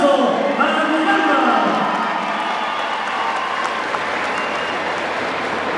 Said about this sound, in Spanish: Pido un aplauso para Miranda.